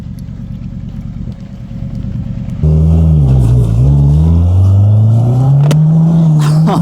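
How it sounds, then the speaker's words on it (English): A turbocharged Honda Civic EG idles with a rough drone, then the engine jumps sharply into hard acceleration. The revs climb, dip through a downshift and climb again, loud and close inside the car. "Oh, that was a dirty downshift."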